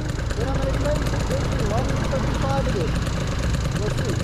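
A Gilera Runner scooter fitted with Malossi parts runs steadily close by, a loud, continuous engine drone with a wavering, uneven note throughout.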